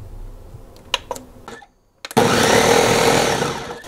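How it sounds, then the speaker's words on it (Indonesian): A kitchen blender chops and purees kale leaves, starting abruptly after some quiet handling sounds and a short pause, then running as a loud, steady, close whirring roar to the end. "Jadi aku blender dia duluan."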